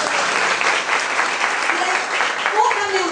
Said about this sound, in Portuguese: Vamos bater palmas aí, gente.